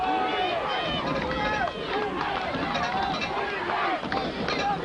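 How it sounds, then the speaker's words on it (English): Football crowd at a 2000 Hastings versus Pawling bowl game, chanting and cheering in a steady, dense roar from both sides of the stands, with voices layered throughout and no break in the noise. "Crowd on one side chanting defense, the other side chanting offense"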